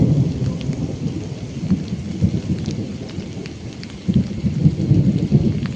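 Heavy rain pours steadily at night outdoors while thunder rumbles underneath, swelling louder toward the end, loud and continuous with no voices.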